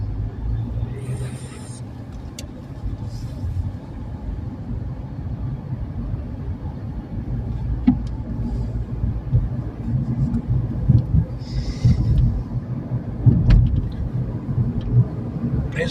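City bus pulling away from a green light in traffic, heard as a continuous low engine rumble and road noise that swells slightly as it moves off, steady and fairly close throughout with no speech.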